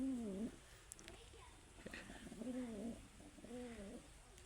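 Pigeons in a loft give soft repeated throaty coos, several bursts rising and falling across a few seconds, close and fairly quiet, with faint background rustling.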